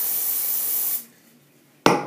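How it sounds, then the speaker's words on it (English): A can of Mega Volume hairspray is sprayed close at the hair roots: one loud, steady hiss of about a second, a short pause, then a second sharp burst of spray begins. "spray it at the root,"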